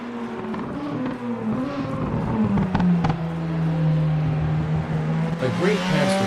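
Race cars in a Group C racing video game roar and jostle for position, engines droning steadily with rising and falling pitch as cars overtake, under continuous commentary.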